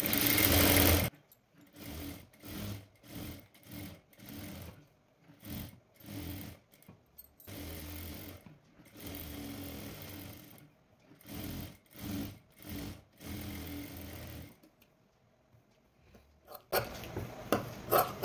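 Sewing machine stitching a lined blouse, running in short, repeated bursts separated by brief silences, close and clear, with longer quiet gaps toward the end.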